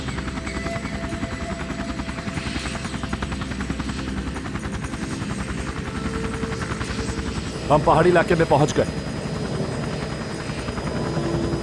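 A helicopter flies over hilly terrain in a crosswind, a steady rotor drone running continuously under a man's speech, with a brief louder burst of sound partway through.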